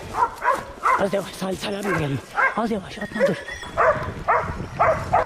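Hunting dogs bay and yelp at a wild boar, repeated close barks and whines in bursts while someone narrates over them.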